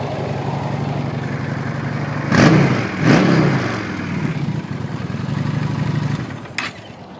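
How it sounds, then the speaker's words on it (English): A 2013 Honda Shadow 750 Phantom with a 745cc V-twin engine runs steadily at a low, even idle, with two brief louder blips near the middle before settling back; no one speaks. "Honda's been making the same V-twin 745cc engine for a while."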